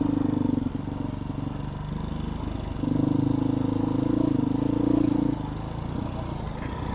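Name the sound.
small dual sport motorcycle riding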